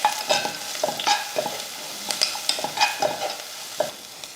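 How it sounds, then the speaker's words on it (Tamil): Asafoetida and turmeric sautéed in a pan while being stirred, giving a soft steady sizzle broken by repeated scraping strokes of a spoon against the metal, close and alone with no voices. "இப்போ இதை வதக்கிடுவோம்."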